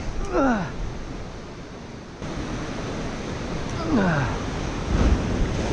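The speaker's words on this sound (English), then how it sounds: "There is a big swell pumping in" A big easterly swell breaks and washes over a rock ledge on Australia's remote east coast at sunset, a loud, continuous roar of surf with rising surges, plus a couple of faint chirping, voice-like sounds.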